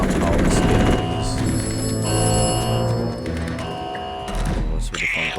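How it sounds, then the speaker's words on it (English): A telephone rings loudly in the Atomfall video game, a sustained electronic bell tone layered with other game sounds and a voice talking over it. "What's with the phone call?"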